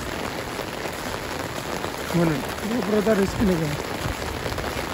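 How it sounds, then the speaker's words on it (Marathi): Heavy rain pours steadily at a farmhouse, a dense close hiss of drops hitting surfaces that runs unbroken under someone talking through the middle. "पाऊस पण फुल जोरदार आहे तुम्ही बघू शकता इथे पाऊस बघा नुसता पाऊस"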